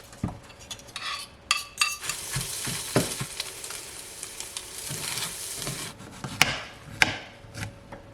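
Eggs and garlic and herb butter cook in a pan, with sizzling rising and falling beneath repeated utensil clinks and scrapes against the pan, nearby and free of speech.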